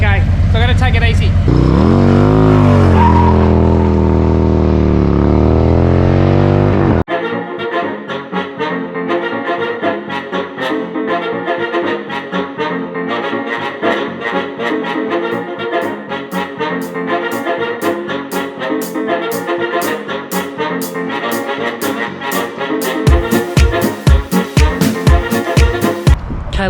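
A 2022 Harley-Davidson Road Glide ST motorcycle on a test ride. A voice speaks over the engine for the first several seconds, then a steady V-twin drone carries on alone, with rapid pulsing revs toward the end.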